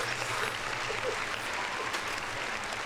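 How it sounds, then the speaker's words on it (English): A round of applause from a small podcast studio audience, steady broadband clapping sustained for about three seconds at moderate distance, with no voices over it. "Round of applause."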